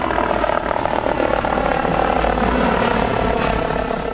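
The HeliMed 98 air ambulance helicopter arrives overhead, its loud, continuous rotor thrum and engine whine filling the scene with a rapid rhythmic chop.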